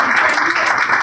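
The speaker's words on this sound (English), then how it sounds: "And don't be shy, you can clap, and this is why it's a live audience." Live studio audience applause at a political talk show, a short burst of dense, steady clapping heard up close.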